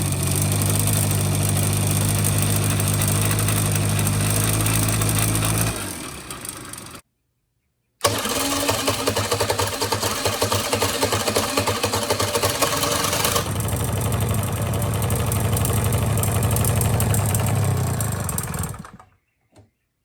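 A 1985 Honda Spree scooter engine runs at full throttle with a steady, buzzing drone after a carburetor cleaning. It cuts out briefly, then returns loud and continuous for more than ten seconds before dying away.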